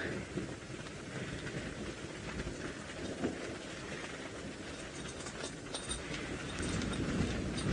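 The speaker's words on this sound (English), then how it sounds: "if I'm quiet for a moment, you should hear the thunder as well" Heavy rain pours steadily during an open-vehicle safari drive, with low thunder rumbling in the distance beneath the constant hiss of the downpour.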